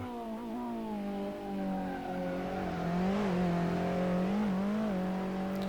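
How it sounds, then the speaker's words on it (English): An Alfa Romeo Giulietta TCR race car engine drones and revs up and down with rising and falling pitch over curbs at Imola, sustained throughout with no pauses. "you can hear from the engine tones that as you're on the accelerator going over those curbs"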